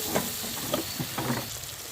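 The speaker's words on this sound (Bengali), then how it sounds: "দিয়ে ভালো করে কষে নেব।" Salt, turmeric, chili powder, ground coriander and Maggi masala fry in a pan for egg kofta curry, giving a quiet, continuous sizzle with a few soft stirring scrapes.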